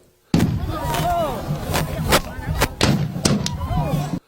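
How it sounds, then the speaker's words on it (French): Several sharp rifle shots from royal army soldiers crack out in an irregular volley over a noisy outdoor crowd, with voices and cheering running underneath. "salve de coups de feu de l'armée royale"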